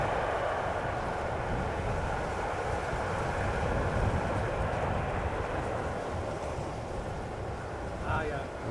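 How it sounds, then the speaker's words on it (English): An Emirates Boeing 777 arrives at Amsterdam Schiphol's Polderbaan runway on a hot, sunny day, heard as a steady, broad jet roar with low rumble that holds evenly throughout. "777 from Emirates is going to runway"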